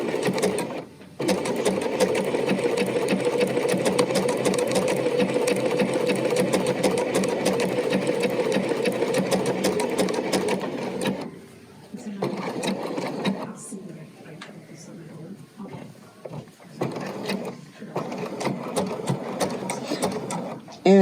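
A BERNINA sewing machine stitches with the needle stopped in the down position, a loud, close, steady mechanical whir running for about ten seconds, then stopping and restarting in shorter bursts as it pivots around curves.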